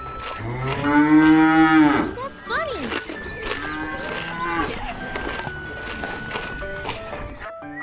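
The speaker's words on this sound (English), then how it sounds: "Here's a gentle cow chewing some yummy grass." A cow moos with a long, drawn-out low call, then a second shorter moo follows; a person briefly speaks afterward.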